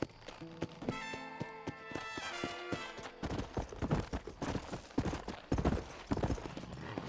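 Horse hooves clip-clopping in the Western video game Red Dead Redemption, a brisk rhythmic run of hoofbeats that shifts into a heavier, faster gallop, close by, with musical tones early on.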